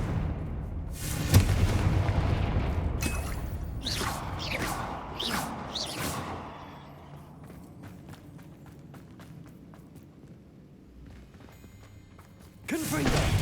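Confringo spell blasts in the video game Hogwarts Legacy crackle and burst in quick succession amid combat noise and footsteps, fading into a quieter stretch before another loud surge at the end.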